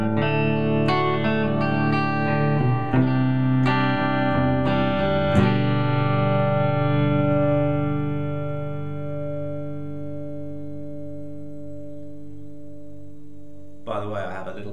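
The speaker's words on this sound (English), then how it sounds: "Here is the bridge pickup." Gretsch G6122 1962 Country Gentleman electric guitar on the bridge pickup, strummed and played with a bright, twangy tone and a wash of reverb, chords ringing out and sustaining before a final brief strum.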